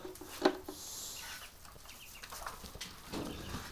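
Muscovy ducks in their pen, a sharp close call near the start followed by soft hissing, rustling and low grunting sounds from the birds, plus scattered shuffling movement throughout.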